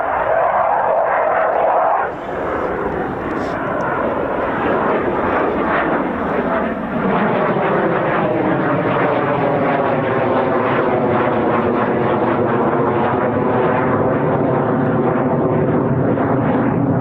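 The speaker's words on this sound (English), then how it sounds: "then literally a frontline fighter jet, an F-18" A Swiss F-18 Hornet fighter jet flies during a RAF Leeming exercise, a loud sustained roar with a sweeping, shifting pitch as it passes, heard alone without talk.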